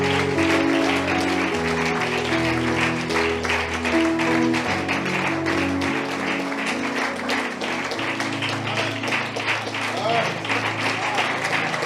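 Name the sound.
congregation applauding in church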